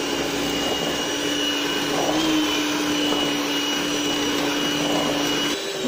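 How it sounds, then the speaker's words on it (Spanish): A continuous electric mixer whir beats chocolate sponge cake batter, steady and close, with a constant motor hum and slight pitch shift near the end, no talking. "Y batimos para que se incorpore."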